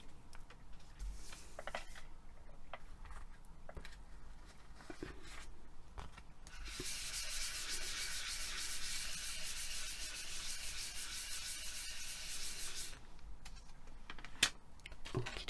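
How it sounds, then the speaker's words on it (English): Polymer clay sheet being burnished by rubbing, with scattered soft taps and scuffs at first, then a steady close hissing rub for about six seconds before it stops, followed by a sharp tap. "let me give that a burnish"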